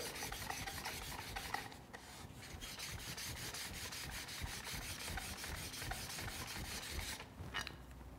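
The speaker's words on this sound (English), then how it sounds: "When you sharpen a scraper, the center is going to be the last place that you really end up turning a burr" Steel card scraper drawn along a sharpening block to turn a burr, a steady close rasping scrape repeated in continuous strokes with brief pauses.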